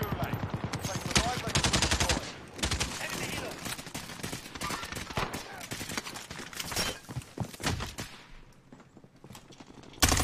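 Rapid gunfire in a multiplayer shooter video game, dense bursts of automatic shots crackling almost continuously, loud and close, with a pause near the end before a final burst.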